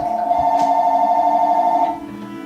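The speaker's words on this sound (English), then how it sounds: "My phone is ringing." An indoor telephone rings with a loud, steady electronic tone for about two seconds and then stops, leaving a quieter background.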